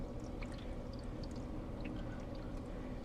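Pineapple juice pours from cans into a baking pan, a steady close liquid splash and trickle with small droplet plinks running continuously without talk.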